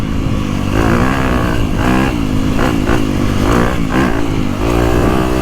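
A 2025 Honda CRF250R Works Edition motocross bike engine revs loud and close, running continuously with repeated rises and falls in pitch as the throttle is worked, with no talking over it.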